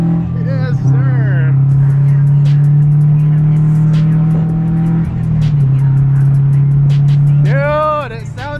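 A Subaru BRZ fitted with a new full exhaust system, including headers, over and front pipe and catback, revs loudly nearby, holding a steady droning note between sharp throttle blips, with people talking over it.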